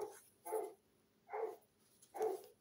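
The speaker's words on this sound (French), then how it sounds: "on entend le chien du voisin, n'est-ce pas?" A neighbour's dog barks three times at steady intervals, each bark fairly distant and moderately loud, with quiet room tone between them.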